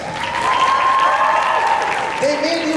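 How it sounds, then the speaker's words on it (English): A hall full of graduating students applauds their parents at a Class of 2023 ceremony, dense sustained clapping from a large crowd while a voice speaks over it. "Clap for your parents."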